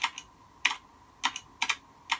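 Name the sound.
typing on a computer keyboard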